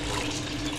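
Hot water pouring into a pot of cooking sarson ka saag, a steady close, continuous liquid rush with no voices over it.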